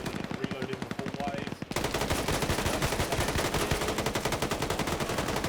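Machine gun fire in the Redfall video game during a PvP match: a quieter start cuts to a loud, sustained rapid stream of evenly spaced shots, close and continuous to the end.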